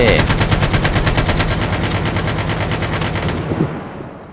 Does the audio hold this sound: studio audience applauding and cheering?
no